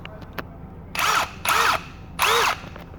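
Three loud, close bursts from an Einhell 18V compact cordless impact wrench with 1/2-inch drive, brand new and set to 200 Newton meters, each burst rattling for about a third of a second with short pauses between.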